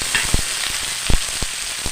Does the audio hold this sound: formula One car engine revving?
no